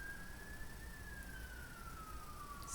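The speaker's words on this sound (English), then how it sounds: "Sirens? Don't know if you guys can hear that." Faint emergency vehicle siren outside, a steady wailing tone drifting slowly in pitch, heard far off under a low background hum.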